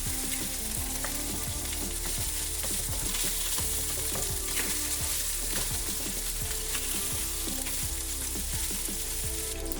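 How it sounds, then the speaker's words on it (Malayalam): Salmon pieces fry steadily in hot oil in a pan, a dense continuous sizzle with crackles and occasional stirring scrapes, close and loud throughout with no talking. "എല്ലായിടത്തേക്കും എണ്ണ എത്തിച്ചിട്ട് നല്ലപോലെ വറുത്തെടുക്കാം"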